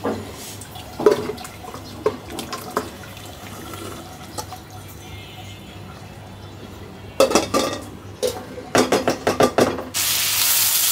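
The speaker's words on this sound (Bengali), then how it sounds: "একবারে এই কড়াইতে ঢালি।" Vegetables are tipped into a wok holding butter and garlic paste, producing scattered metallic clanks, then a quick run of clattering knocks and a rushing splash near the end.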